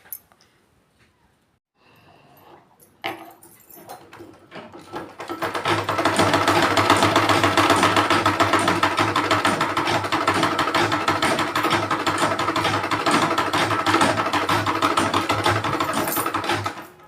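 A sewing machine starts after a few quiet seconds and then runs steadily with a rapid, even mechanical whir close by, continuing to the end.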